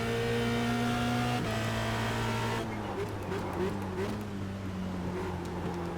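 Formula Renault engine in the iRacing sim at Spa-Francorchamps droning loudly with quick throttle blips as revs drop through downshifts, heard up close and steady throughout.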